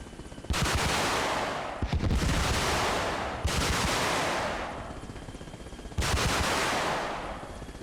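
Salvos of rockets fired from an Mi-8 helicopter in Arma Reforger: four long, loud roaring bursts of rapid rocket launches, each a dense rushing barrage lasting about a second or more, close and continuous with little silence between them.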